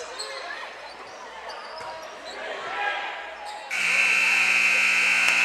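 A loud, steady buzzer sounds at the end of the third quarter of a boys' high school basketball game, cutting in abruptly over gym crowd noise and ball bounces and holding to the end.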